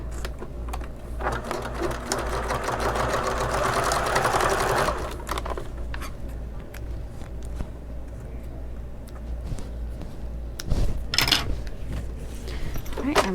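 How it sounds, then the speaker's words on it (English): A sewing machine stitches fabric for a convertible bag, running in a close, steady mechanical whir for several seconds, then stopping, followed by handling clicks and fabric rustles. "fold under this end and stitch it so it doesn't come out easily"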